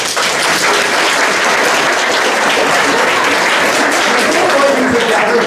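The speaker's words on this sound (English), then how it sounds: "Give yourselves the clap." A theatre audience at a Sleeping Beauty pantomime claps loudly and continuously, a dense even wash of applause with no pauses, close and full throughout.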